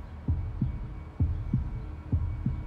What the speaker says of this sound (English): I could hear my heart beating